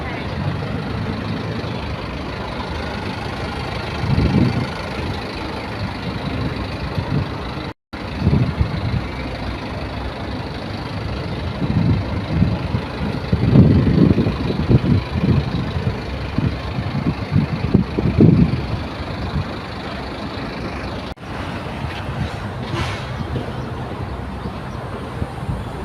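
Used Japanese mini tractors idle at an agricultural machinery auction in Thailand, a steady low engine rumble throughout with a few louder surges and faint background voices.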